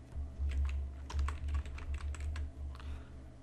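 Computer keyboard typing with irregular bursts of keystrokes, fairly close and quiet, while text is entered in Adobe Illustrator, with a low hum underneath and no voices.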